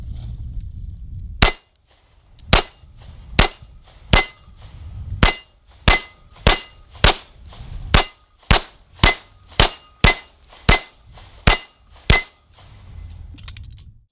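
A CZ75B Cold War commemorative pistol fires Fiocchi 115 grain ammunition in a steady string of about sixteen loud, sharp shots at close range, spaced under a second apart, with no talk.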